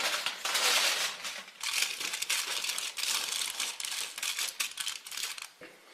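Tin foil is crinkled and handled while being laid on an oven rack, giving close, busy crackling and rustling that runs continuously with short sharp crinkles.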